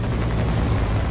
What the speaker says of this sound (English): Choppers.